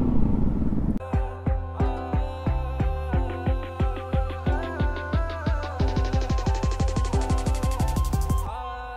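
Bajaj Pulsar NS 200 motorcycles on a group ride from Mugling toward Chitwan in Nepal, the near engine throbbing in rapid rhythmic pulses that climb steadily in pitch as it accelerates, loud and close, with no voices.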